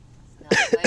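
A person coughs inside a van: two or three short, close throat bursts after a moment of near quiet.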